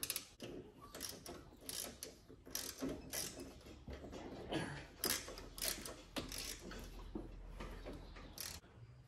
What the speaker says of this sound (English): you'll need a special socket made just for spark plugs